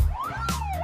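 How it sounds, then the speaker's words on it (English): Ambulance siren wails in a single rising and falling sweep, loud and close, heard alone in a brief burst. "Ambulance."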